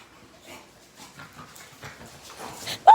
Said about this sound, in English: So that's Louis dog, and that's Burberry dog